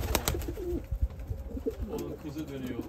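Tumbler pigeons cooing close by on the ground, a few soft throaty coo phrases mixed with other bird sounds over a steady outdoor background.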